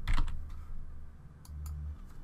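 Keystrokes on a computer keyboard, typed while searching for a city name in a hacking game. A quick cluster of close clicks comes at the start, then a few sparse taps follow over a low steady hum.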